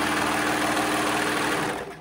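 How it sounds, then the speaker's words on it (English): A sewing machine stitches a V-neck garment's neckband. Its steady, close, rapid mechanical whir runs continuously and winds down at the very end. "And then we're gonna go ahead and sew."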